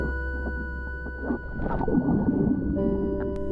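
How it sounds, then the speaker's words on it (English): Underwater ocean soundscape while snorkeling near a marina in Cabo, with small clicks, crackles and gurgling movement over a low steady hum, plus faint tonal whines drifting through. "you can actually hear the ocean. Little clicks, crackles, and movement around you"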